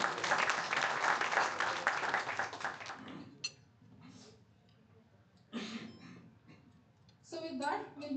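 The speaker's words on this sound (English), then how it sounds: "Round of applause, please." Audience applause at a national IT association event, a burst of clapping for about three seconds that fades into quiet murmurs, with brief voices and another short swell near the end.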